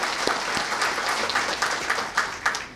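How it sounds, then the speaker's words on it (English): Audience applause at a community violence intervention press conference, a steady patter of many hands clapping, fairly close and filling the whole moment with no talking over it. "let's give them another round of applause."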